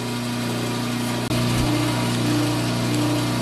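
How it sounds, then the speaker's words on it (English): A wooden sign pressed against a spinning sanding mop, giving a steady motor whine with a constant hum and a brief dip partway through, close and loud with no speech. "What we're doing is running this over the sanding mop."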